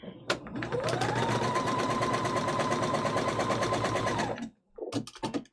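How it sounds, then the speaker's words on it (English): A sewing machine rattles in a fast, steady run for about four seconds, then stops, followed by a few brief clicks and handling sounds. "Sorry if my sewing machine's a bit loud."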